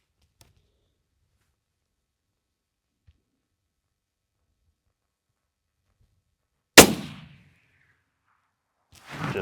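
A single sharp .28 Nosler rifle report at long range, loud and close with a short decaying tail, after near silence; another burst of noise starts just before the end.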